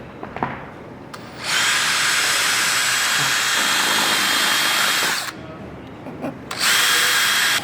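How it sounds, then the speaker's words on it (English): A power drill bores 3/16-inch holes into the roof of a 2022 Toyota Tundra CrewMax, giving two loud, sustained whining bursts, the first long and steady and the second shorter, separated by quieter handling noise. "now that our holes are drilled on our roof"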